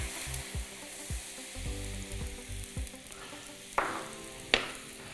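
Vegetables sizzling in hot oil in a pan while cooking, a soft steady frying crackle with a few low knocks and two sharper bursts of sizzle near the end.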